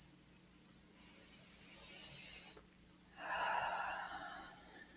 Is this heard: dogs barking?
no